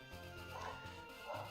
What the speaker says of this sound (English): I bet you guys can hear my dogs barking in the background